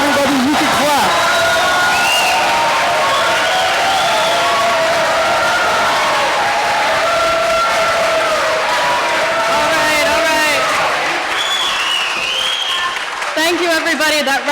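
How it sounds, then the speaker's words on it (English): Audience applause and cheering at a Democratic assembly district debate, a steady wash of clapping mixed with whoops and crowd babble that holds loud throughout and swells again near the end. "Okay, everybody, you can clap."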